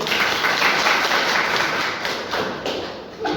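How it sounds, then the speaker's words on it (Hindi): Meeting attendees break into loud, close clapping that stays dense and steady before thinning out toward the end. "जोरदार तालियां अपने से"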